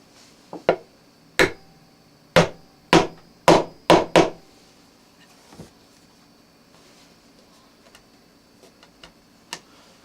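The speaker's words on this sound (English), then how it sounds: "we'll probably need to tap those home just a little bit with a hammer" A hammer taps staples into wood with sharp, distinct knocks, single hits and a quick cluster of about five, then a few fainter taps spaced apart against a quiet room.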